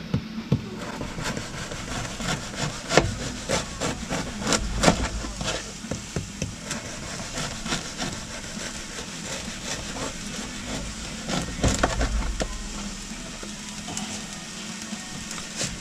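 A knife saws through a local bakery bread loaf in roughly one-centimetre slices, rhythmic scraping and crunching strokes close by with a few heavier knocks against a board, no speech.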